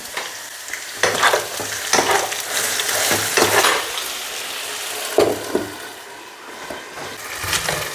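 Potatoes fry in a pan with a constant loud sizzle, broken by repeated scraping stirs of a utensil against the pan, with no voices.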